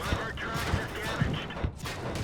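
Tank guns firing in the World of Tanks video game, a burst of muffled booms and impacts, with a voice speaking over the battle noise.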